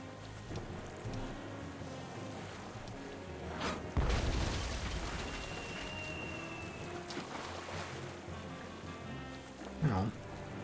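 A cannon firing in the video game Tales of Monkey Island: a single deep boom bursting out midway, followed by a lingering rumble and whistle over ambient sea and wind game sounds.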